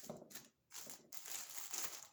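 Ribbon being curled for a Valentine's Day gift basket, giving quiet crinkling and scraping bursts with a short pause near the start, close and soft, no talking.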